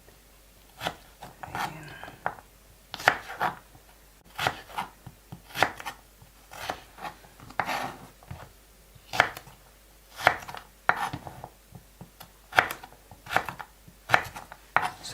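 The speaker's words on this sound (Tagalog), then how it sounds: "Hiwaan po natin ng ganyan." A knife slices repeatedly on a cutting board, preparing ingredients for cabbage with minced meat, with irregular crisp thuds in short bursts, fairly close, while a person speaks briefly.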